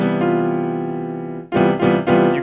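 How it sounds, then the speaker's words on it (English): A sustained extended chord rings out with a dissonant fourth degree a half step above a low E, followed by three quick re-struck chords, alone with no voices. "you can hear that this 4th degree really clashes with this E being played down here because they're only a 1/2 step away"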